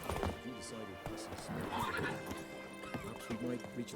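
Roach, a horse in The Witcher 3, neighs and whinnies over clip-clopping hooves, close and lively, with a voice speaking briefly alongside.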